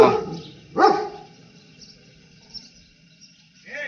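A single short puppy bark or yelp up close, followed by quiet background with faint insect chirps and a brief whimper at the end.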